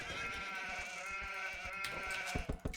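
A sheep bleats in an Age of Empires game, a sustained nasal cry that runs steadily and ends with a few clicky game sounds, with no talk over it.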